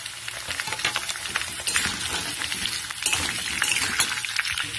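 Chopped potato, eggplant and pumpkin stir-fried in mustard oil for a Bengali pui shak chorchori, a continuous close sizzle with scraping and clinking of the spatula against the pan throughout.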